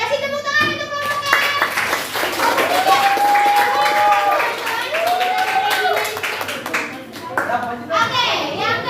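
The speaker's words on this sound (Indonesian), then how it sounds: "kasih tepuk tangan untuk kelompoknya" A group gives a round of applause in a classroom or community session, with scattered hand clapping mixed with children's voices and chatter throughout.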